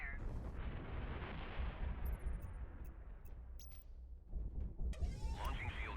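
Booming artillery fire from naval guns in the Battle Group VR space combat game, a sustained rumbling barrage with sharp whistling bursts near the start and at the end.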